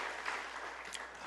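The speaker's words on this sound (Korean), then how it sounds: "하나님께 영광의 박수 한번 더 올려드릴까요?" Church congregation applauding during a Sunday worship service in Geoje, Korea, a steady wash of clapping from many hands that fills the short moment at moderate loudness.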